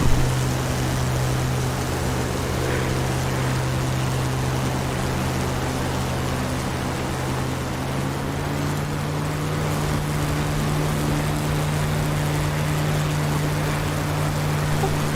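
A propeller aircraft engine in a flight simulator drones steadily at a constant pitch, a loud, even, sustained hum with no break, as if heard from the cockpit.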